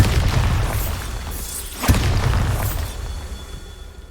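A Bombarda spell blast in the Hogwarts Legacy video game: a loud, boomy low rumble with a sharp burst near the middle, crackling debris and whooshing magical sparkle on top, then a slowly fading tail.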